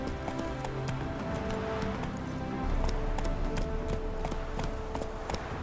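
Horse hooves clip-clopping at a steady run in The Witcher 3, a continuous rhythmic patter over a busy game soundscape with a low rumble, no voices.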